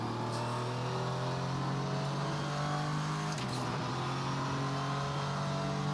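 Engine of a VRC Vendetta V60 in the Assetto Corsa racing game drones steadily at moderate revs, a loud continuous tone that dips briefly midway as if shifting gear, with no talking.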